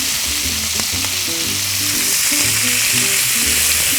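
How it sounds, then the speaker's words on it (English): Onions hitting hot bacon fat in a pan, a loud, continuous close sizzle that holds steady for the whole stretch with no voices. "we're going to throw our onions in. Right into that hot fat."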